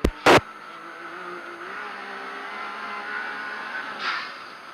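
A side-by-side UTV, a RZR Pro or Maverick X3, runs off-road near Coos Bay with a steady engine drone that swells slightly, after a couple of sharp bursts at the start and a short rush of noise near the end.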